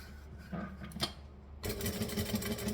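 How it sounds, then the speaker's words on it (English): Domestic sewing machine top stitching along folded fabric, starting with a few soft whirring bursts and then running in a steady, close, continuous hum. "then I'm going to top stitch along here"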